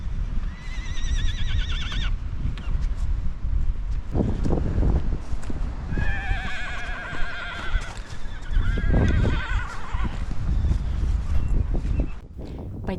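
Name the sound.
horses neighing and clip-clopping in strong wind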